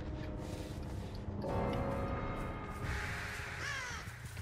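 Crows caw in the Dead by Daylight horror video game, several harsh calls overlapping over a constant eerie ambient drone, with no one talking.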